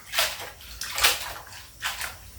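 Ingredients for a Thai curry with fak hom are rinsed by hand in a basin, giving three loud, close swishes and sloshes of water in a steady rhythm, with no speech.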